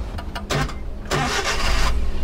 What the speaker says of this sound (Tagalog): so paanda rin natin yung makina natin